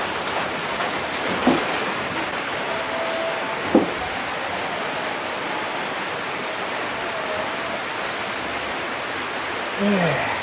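Steady rain pours outdoors in a Minangkabau short-film scene, a dense even hiss throughout with a few faint tonal sounds drifting through.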